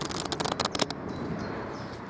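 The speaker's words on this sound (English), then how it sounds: "it's me shuffling cards." A deck of playing cards being shuffled close by, a quick rippling burst of snapping cards that lasts just under a second and is followed by quiet room tone.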